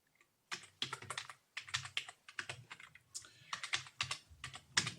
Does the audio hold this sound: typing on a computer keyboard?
yes